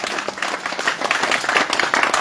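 A church congregation claps and cheers in praise of the Lord, giving a short burst of dense, lively applause at close range.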